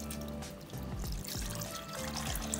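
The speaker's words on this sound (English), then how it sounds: "We are going to add our plain water and let this braise." Plain water poured into a pot of pork belly and preserved cabbage set to braise, a close, continuous bubbly splashing and gurgling with a faint low hum underneath.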